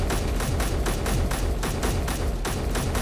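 Rapid automatic fire from a gun turret in a first-person video game, a dense continuous burst of loud, closely spaced shots lasting about three seconds, with no voices over it.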